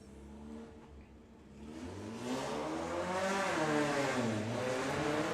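A VW Sportsman drag race car at a Bug Jam drag racing meet accelerating down the strip, its engine note rising in pitch and growing louder as it passes, heard from trackside at a moderate distance.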